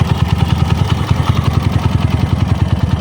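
A Kawasaki KLX 150 dirt bike engine, freshly rebuilt with a new crankshaft, idles steadily close by with a quick, even mechanical pulse and light clatter, no voices over it.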